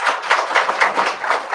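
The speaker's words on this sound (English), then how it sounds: "A round of applause for Khushbu." A crowd applauds a student called forward at the Accendo 2022 event, with dense, steady clapping filling the room without pause.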